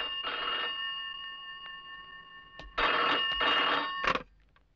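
A telephone bell rings in two bursts, a longer ring followed by a pause and then a pair of rapid rings, clear and near in a quiet room.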